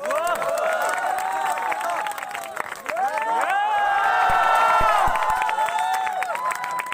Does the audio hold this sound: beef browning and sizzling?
no